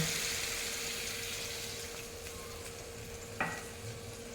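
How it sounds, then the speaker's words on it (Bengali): Water poured into a sizzling pan of egg curry (dimer jhalda) masala over high flame, a steady broad frying hiss running throughout with a brief sharp splash near the end, no talking. "এখন দিয়ে দেবো প্রয়োজন মতো জল।"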